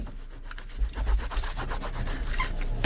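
A burnishing tool rubs firmly across paper pages of a handmade mini album, making a close, soft scratchy rasp in short back-and-forth passes with no talking.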